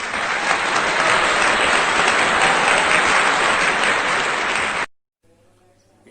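Audience applause welcoming the chief guest at a Hindi poetry gathering honouring martyrs, a dense, steady roar of clapping for nearly five seconds that cuts off abruptly into quiet room noise.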